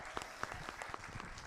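An audience at a live public broadcast of a knowledge concert about the Expo applauds. The clapping is quiet and steady, with scattered distinct claps standing out over the brief burst.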